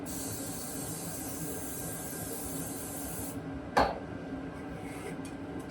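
Pan release spray hisses steadily into a frittata pan in a kitchen for several seconds, then stops, followed by a short clink and faint handling noises.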